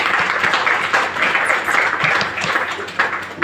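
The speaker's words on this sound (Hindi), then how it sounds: "ताली बजा दीजिए सर," Applause from an audience at a stage event in a hall, a dense, steady patter of many hands clapping throughout, fairly loud and close, with scattered louder claps.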